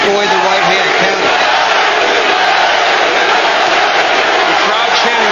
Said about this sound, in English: The crowd chanting Larry Holmes' name for all of Butterbean's popularity